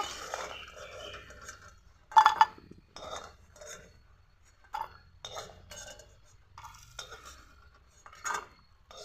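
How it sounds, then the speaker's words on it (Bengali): Fried lentil dumplings lifted from a wok, giving a run of light metallic scrapes and clinks of a utensil against the pan, with one sharper clatter, moderately close and without talk. "বড়িগুলোকে লাল লাল করে ভেজে নিলাম এখন তুলে নেব"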